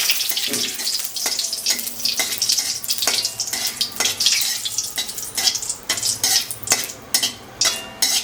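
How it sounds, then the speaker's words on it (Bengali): Steady crackling sizzle of bay leaves frying in hot oil, with scraping and stirring clatter throughout, fairly close and loud. "এখন আমি তেজপাতা দিয়ে দিলাম তেজপাতা চলে গেল"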